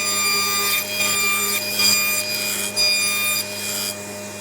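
A table saw blade cutting a 3/4 inch notch in a wooden workpiece guided by a jig, heard as a steady, close rasping cut with a constant motor whine and several rhythmic surges of the blade biting the wood.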